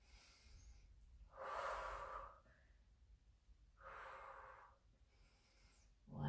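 Slow, forceful exhalations through the mouth during a lower-body floor exercise, two long audible breaths with quieter pauses between, close and fairly soft with no speech.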